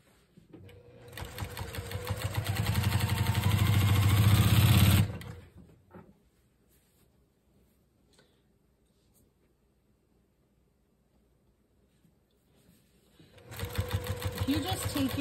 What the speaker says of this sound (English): when you're sewing this, you should find that it comes out nice and straight and even